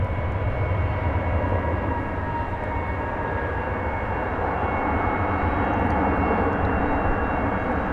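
A passenger jet taking off at night at DFW Airport, a steady loud engine roar with a broad rumble, heard from outside at some distance, no voices.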